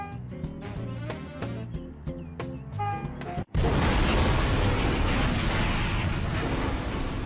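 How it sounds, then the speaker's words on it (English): A train crash explosion in the Nintendo Switch puzzle game Conduct Together: light chiming game music plays, cuts out, then a loud, sustained roaring blast of noise fills the rest. "I love the explosions. They're hilarious."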